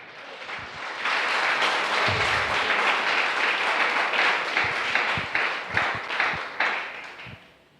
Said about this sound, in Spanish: aplauda su nombre esta noche.